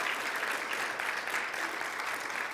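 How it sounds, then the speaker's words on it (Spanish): Church congregation applauding during a sermon, a soft, continuous patter of many hands clapping at a distance, faint and even with no voices over it. "Dale el aplauso fuerte a nuestro Señor Jesucristo"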